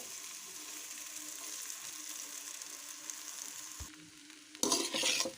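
Puffed rice pakoda mixture with salt being mixed by hand in a bowl, a soft continuous rustling hiss that fades near the end, followed by a brief louder crunchy burst of handling, close and quiet, no talk.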